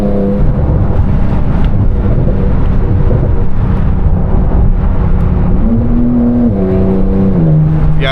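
A 1,000 hp Audi R8 Turbo S with an F1 exhaust drives hard, its engine a loud, continuous roar heard from inside the car, rising and falling through gear changes with no talking.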